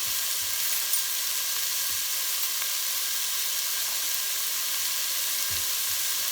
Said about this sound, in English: And just allow that to saute probably for about 5 minutes or so.